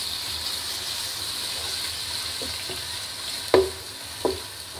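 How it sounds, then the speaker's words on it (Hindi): Onions frying in a pan with whole garam masala and garlic-ginger paste for a lemon chicken karahi, giving a steady soft sizzle with a couple of light stirring knocks near the end, quiet and with no voice. "लहसुन अदरक का पेस्ट डालने के बाद 1-2 मिनट हमने इसे फ्राई कर लिया।"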